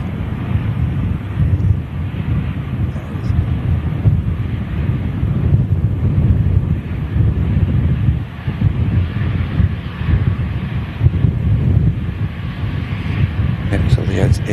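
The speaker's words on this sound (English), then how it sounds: "It is a slight bit blustery today" Blustery wind buffeting the microphone at the Manchester Airport runway visitor park, a loud, constant low rumble that swells and eases, under a voice, with a distant aircraft faintly mixed in.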